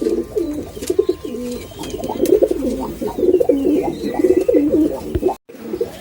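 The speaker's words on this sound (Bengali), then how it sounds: "এখন আপনারা দেখতে পাচ্ছেন একটা ডাবলা রানিং মাদি কবুতর।" Pigeons cooing near a double running female pigeon, steady overlapping low throaty coos in a close, continuous chorus with a few faint chirps and clicks.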